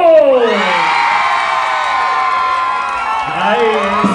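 Crowd at a village dance contest on Mother's Day in San José de Gallinas cheering and whooping for contestant number two, loud sustained shouts and yells close by, children's voices mixed in, with bits of clapping.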